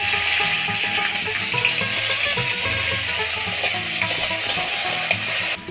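Chili and onion frying in oil, a loud continuous sizzle with spatula stirring and clinks, no talking.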